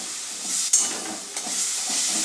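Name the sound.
stirring tomato chutney with dates and tamarind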